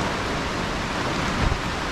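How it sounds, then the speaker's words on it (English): Rain heard from inside a shelter makes a steady, dense hiss with no breaks and no voices. "It's raining out, so I wanted to come out and see what it's like in here during a rain."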